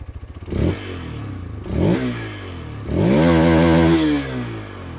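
A Hero Xtreme 160R 4V motorcycle engine idling with a throaty rumble, revved up three times in short bursts that rise and fall back to idle.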